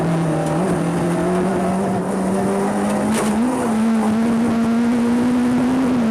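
A rally car races a stage of the Donegal International Rally at the limit of its rear tyres, its engine holding a loud, steady, slowly rising drone with a brief shift, no voices.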